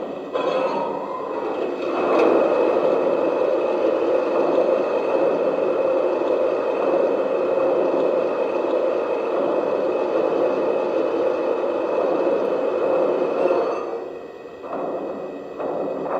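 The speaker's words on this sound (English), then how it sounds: "here is the sound of water being added to the tender" Water fills the tender of an S gauge American Flyer Mallet model steam locomotive: continuous rushing, hissing flow over a steady mechanical hum, loud and even for several seconds before tapering off.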